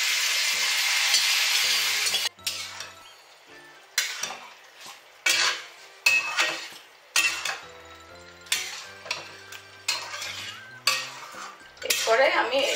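Boiled dal tipped into a hot wok and stirred for macher matha dal, a loud sizzle at first, then rhythmic metal spoon scrapes and clinks against the pan roughly every second, each followed by softer frying.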